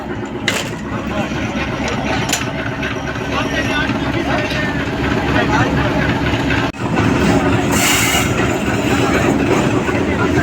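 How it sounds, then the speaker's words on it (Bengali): Loud, steady rumble of a commuter train in motion near Joydebpur, Bangladesh, heard from inside a carriage, with rhythmic rail clatter and a brief dip partway through. "এখন আমি আছি ট্রেনে চাপাই নবাবগঞ্জ কমিউটার ট্রেনে"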